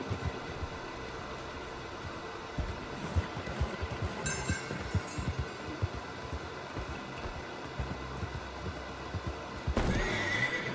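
A horse in the Red Dead video game gallops with continuous, rapid clip-clopping hoofbeats and a loud whinny partway through, set over a steady outdoor ambience.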